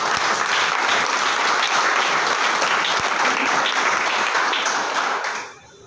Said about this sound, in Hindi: चलिए एक जोरदार क्लैपिंग होना चाहिए।